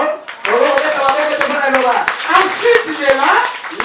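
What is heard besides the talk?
congregation applauding in church service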